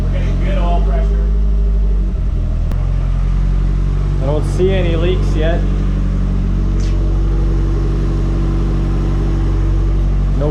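A freshly built, forged Nissan Silvia engine idles steadily on its first start-up, a low, constant rumble that runs throughout while people talk nearby.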